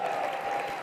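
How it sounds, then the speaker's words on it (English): Audience applause at a colorectal cancer research foundation gala in Minnesota, a dense steady clapping from a crowd filling the whole short stretch without pause. "Can we get a big round of applause for the folks at Smack Shack for putting this thing together?"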